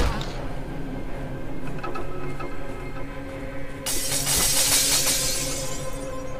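Glass shatters loudly in the zombie video game Dead Island, a bright crashing burst over continuous game noise and background ambience.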